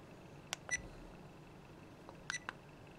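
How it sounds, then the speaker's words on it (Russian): Airon ProCam 4K action camera emitting short electronic beeps, two clusters of quick tones around the start and near the end, crisp and close against a quiet background. "Звуки, это непосредняя пищалка, которая сейчас слышно."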